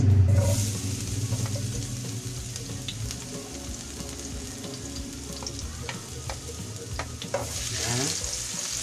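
Garlic frying in a pan for pork giniling: a continuous close sizzle with scattered crackles and occasional stirring scrapes, no voices.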